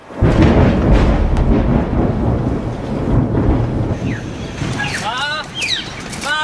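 Deep, rolling thunder from a brewing storm rumbles loudly and continuously, fading slightly as a few birds chirp near the end.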